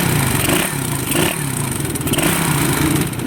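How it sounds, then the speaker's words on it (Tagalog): A stock motorcycle engine with a stock tensioner revs up loudly in short bursts, rising and falling over a clattering mechanical idle close to the microphone. "Bumbahin ko lang konti."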